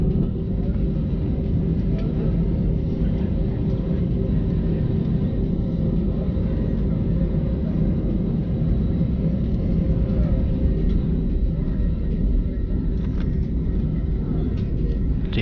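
An Airbus A320-200 on takeoff gives a steady, dense cabin rumble and engine roar that stays constant and loud throughout, with no talk.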